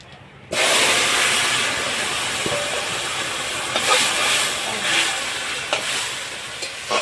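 A tempering of bay leaves, dry red chillies and cumin seeds fries in hot oil in a wok, bursting into a loud, continuous close sizzle after a short quiet start, with faint stirring scrapes.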